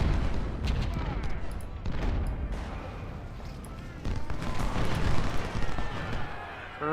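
Cannon and musket fire in the video game Ultimate General: Civil War, dense crackling volleys and dull booms rolling continuously at mid distance, with a voice talking over the battle.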